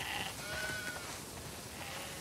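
Sheep in The Last of Us Part II bleat softly in a pen, wavering cries rising and fading over a low continuous flock murmur, no talking.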